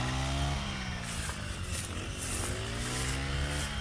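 A brush cutter's small engine whines and buzzes close by, its pitch wavering as it chops through rice stalks in short, rustling bursts.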